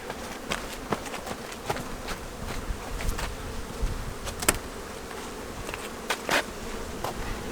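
Honey bees buzz steadily around production hives opened with a fume board, a dense, even hum broken by scattered sharp taps and clicks close by.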